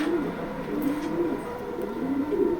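A racing pigeon hen cooing, soft repeated low coos under a constant loud background hiss, close by.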